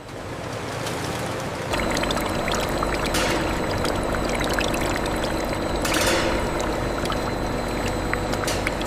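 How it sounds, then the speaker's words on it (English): Golden honey flows steadily at 500 liters per hour in a modern honey factory. It makes a continuous liquid pouring and streaming sound over a constant background hum of machinery, with no talk. "Golden honey, the flow rate looks steady at 500 liters per hour."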